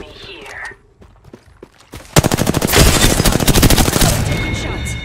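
Gunfire in Apex Legends: quiet movement and faint sounds first, then a loud rapid burst of automatic shots with a rattling rhythm that gradually fades.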